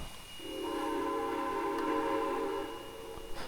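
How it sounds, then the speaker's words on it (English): A steam-style train whistle in the Trainz 2019 railway game on the Eagle River mountain route gives one long, sustained multi-tone blast that swells in, holds steady for about three seconds and fades with an echoing mountain tail. "I like that kind of echoing effect to the whistle."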